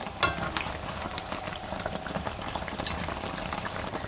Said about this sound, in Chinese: 全程保持中大火炸，防止把油条炸硬